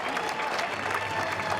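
Steady applause and crowd noise along the route of a town parade, dense continuous clapping at moderate loudness with some voices mixed in.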